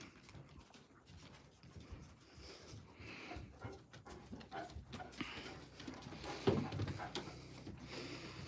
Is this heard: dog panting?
yes